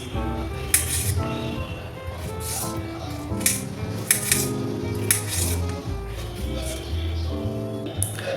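A knife finely chopping tomato on a board in a home kitchen, a run of quick close knife taps and board knocks in uneven bursts over background music, no talking.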